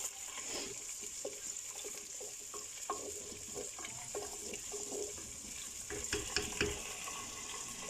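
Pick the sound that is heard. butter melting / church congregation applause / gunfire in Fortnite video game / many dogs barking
butter melting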